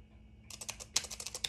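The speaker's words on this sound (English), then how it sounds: "I just typed that in grade 2 braille on the keyboard." Rapid keyboard typing, grade 2 braille entered on a computer keyboard, a quick run of close, crisp key presses after a short quiet lead-in.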